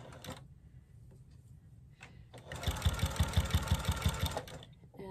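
A sewing machine back stitching a minky baby blanket: a few short, quiet bursts and pauses, then a louder run of fast, rhythmic needle thumps for about two seconds, heard close up.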